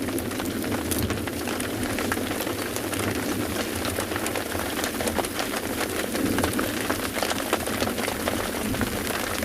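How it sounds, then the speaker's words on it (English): Steady rain falling on an African safari reserve, dense hiss of drops on surfaces continuing evenly throughout, with a low rumbling hum underneath. "many of you still commenting on the sound of the rain and how much you're enjoying it"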